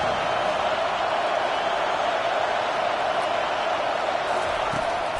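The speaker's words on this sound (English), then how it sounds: "Listen to this crowd just shaking the girders of this place" A stadium crowd roars continuously at a football game, a dense, loud, unbroken wash of cheering with no pauses.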